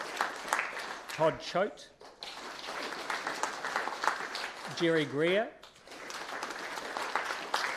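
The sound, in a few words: audience clapping for councillors-elect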